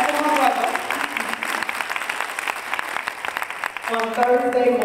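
An audience in a hospital auditorium at a 2009 Women's History Month celebration claps for an award recipient, a steady patter of applause running under a speaking voice that rises over it at the start and end.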